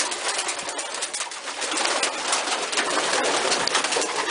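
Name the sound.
pigeons cooing in a loft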